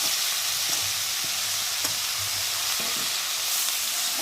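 Boiled banana flower goes into a pan of potatoes and spices frying in hot oil, giving a continuous close-up sizzle and hiss with occasional soft stirring scrapes.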